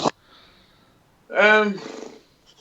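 A voice imitates the high, revving scream of a Ferrari Formula 1 engine in one short rising burst, close and loud after a brief pause.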